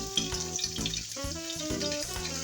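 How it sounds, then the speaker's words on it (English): Pork loin sears fat side down in a pan with a steady sizzle, while a loud tonal hum and ringing sounds run over it throughout. "So I'm going to cook it with the fat side down."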